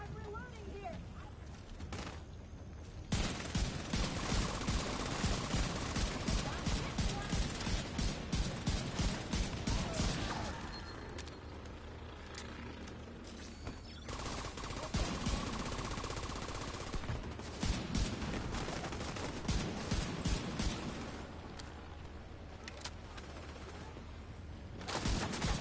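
Rifle gunfire in The Division 2, rapid repeated shots in sustained bursts separated by short lulls, loud and close, with mechanical clatter and a voice talking at times.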